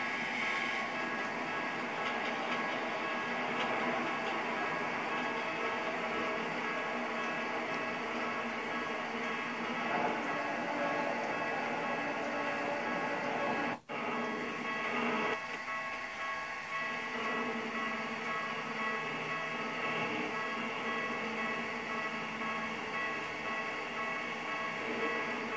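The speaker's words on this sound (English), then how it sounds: "this is a railroad crossing I built near a train station" A Japanese-style railroad level crossing in the game Trainz 2, near a train station, rings with a continuous steady electronic tone for a long stretch, interrupted by one sharp click partway through.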